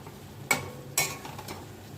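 Potato and paneer curry being stir-fried in a pan, with two sharp spatula scrapes or clacks against the metal and a lighter tap after them over a soft, low background.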